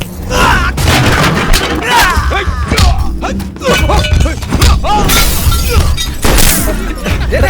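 Gunfire and explosions from an action scene in a Suriya mass film, a dense, loud barrage of bangs, thuds and shattering crashes running continuously without a break.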